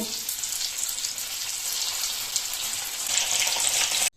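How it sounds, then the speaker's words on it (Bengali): Paneer pieces frying in hot oil in a wok, a steady close sizzle throughout that swells slightly near the end before stopping abruptly, with no talking. "বাকি পনিরগুলো ভেজে নেব"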